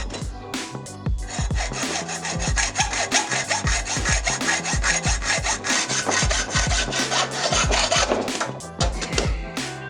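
A hand saw cutting through a part of a Monster Gravel 29-inch bicycle, fast, even back-and-forth strokes rasping loudly and close, continuous with no voices.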